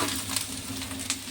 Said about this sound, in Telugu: ఇలా చక్కగా ఏగుతున్నాయి కదా